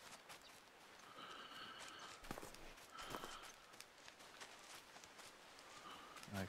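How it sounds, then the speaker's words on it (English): Footsteps crunch through the terrain in the hunting video game theHunter Call of the Wild while hunting bears, a faint scattered series of steps over a steady wash of ambient background noise. "I can hear footsteps"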